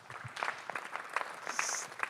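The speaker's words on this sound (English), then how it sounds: "So please, an applause for Inge" An audience in a lecture setting claps to welcome a speaker at a landscape architecture talk. The clapping is sparse and uneven, with scattered individual claps of moderate loudness and no voices.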